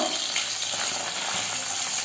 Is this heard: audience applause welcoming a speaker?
no